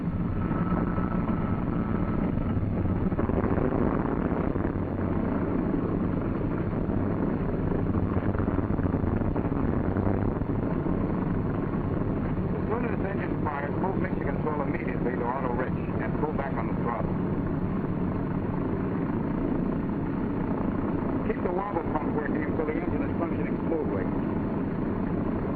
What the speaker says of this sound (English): Idle the engine to between 600 and 800 RPM until the oil pressure shows on the gauge.